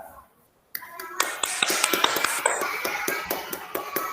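A classroom group applauds a student presentation group, many hands clapping at once in a dense, steady burst that begins abruptly after a brief silence and carries on for several seconds.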